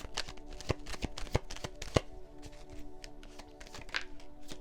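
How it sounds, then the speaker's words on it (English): Tarot cards being shuffled by hand, a close run of soft riffling and tapping with uneven rhythm, quiet and alone. "I'm gonna shuffle a few more times"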